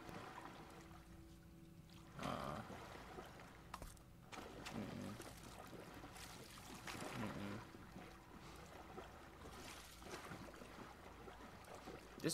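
Water sloshing and trickling inside a hotel in The Last of Us, with faint splashes and pouring sounds rising and falling amid a low, eerie ambience, quiet and intermittent.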